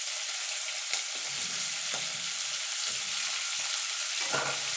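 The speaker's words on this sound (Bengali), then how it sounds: "পেঁয়াজ আর ক্যাপসিকামটা একটুখানি ভাজা ভাজা করে নেব।" Onion and capsicum frying in a little hot oil, a continuous close sizzling hiss with brief stirring scrapes and a few faint clicks, no voices.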